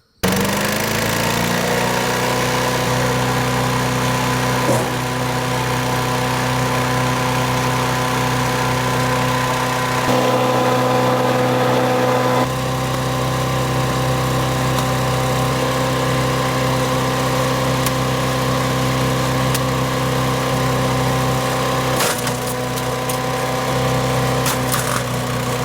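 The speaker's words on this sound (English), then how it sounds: "So luckily for us today, I got a new wood chipper." A wood chipper's engine runs loud and close, holding a steady droning roar for over twenty seconds with slight shifts in load and no talking.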